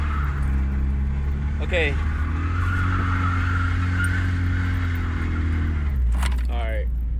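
A Scion FR-S at full throttle while drifting, its engine droning loud and steady with tire scrub beneath, as people talk briefly over it.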